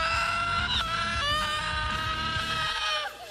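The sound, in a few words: woman screaming in TV show Scream Queens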